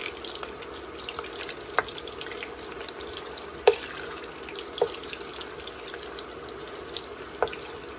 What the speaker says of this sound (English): Now we're going to add our onions. We're just going to fry this a little bit.